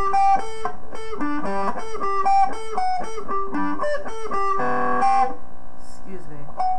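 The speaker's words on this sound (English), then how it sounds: "To speed, it sounds like this." Electric guitar running an intro riff at full tempo, with quick, bright picked notes in a repeating figure that end in a sustained chord and a short trailing phrase, close and alone.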